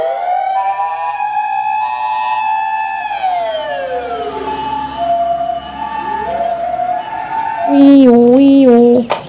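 A person vocally imitates an ambulance siren for a toy ambulance, a loud close wailing tone sliding up and down in long sweeps, ending in a faster warbling pattern.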